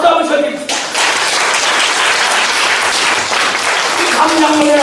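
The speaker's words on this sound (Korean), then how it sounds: "박수 한번 쳐드립시다" A church congregation breaks into loud, sustained applause after a voice speaks, the clapping dense and continuous before talk resumes near the end.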